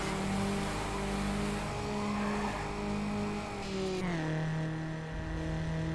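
A car engine in the Need for Speed Underground racing game holds a steady droning note at high speed, its pitch shifting abruptly near the four-second mark as if changing gear, with no talk over it.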